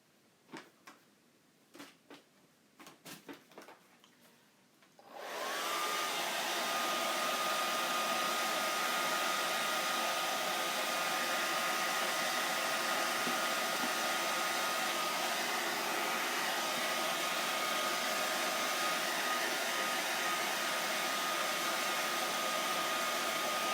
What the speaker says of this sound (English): I am going to hit this with a blow dryer really quick because it's pretty wet.